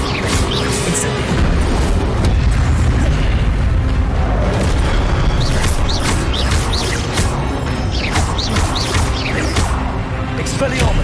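Incendio fire spells and other magic in a Hogwarts Legacy duel give a loud, sustained booming roar, with repeated sharp whooshing bursts layered over the din and no voices.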